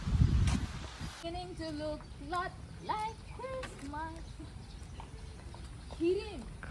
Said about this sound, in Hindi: ये सब घोड़े हैं इधर